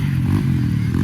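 A pit bike engine revs close by at a muddy motocross track, a rough, loud low rumble with clattering mechanical grit running steadily throughout.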